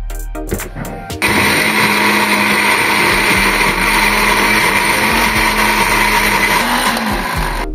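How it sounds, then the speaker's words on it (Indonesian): A kitchen blender grinds shallots and spice paste with water for cilok peanut sauce, starting after a few clicks and then roaring loud and steady up close, its pitch wavering slightly as the blades churn the paste. "Setelah itu kita tutup dan langsung aja kita blender"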